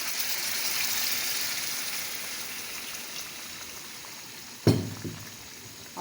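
Quail karahi sizzles and bubbles in a wok, a steady wet frying hiss throughout, with a brief louder splash near the end as yogurt goes in.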